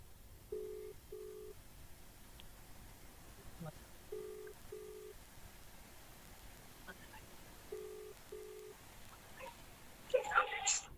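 Telephone keypad tones ring out in short paired bursts near the start, middle and end, with a call being dialed and connected to a faint distant ringing under a low background hum.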